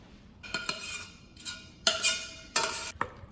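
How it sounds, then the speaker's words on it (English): A utensil stirring and folding sloppy joe mixture in a pot, four short bursts of scraping and clinking spaced through a quiet background, heard close with no talk. "So then you mix it all in. Just kind of folding it in together."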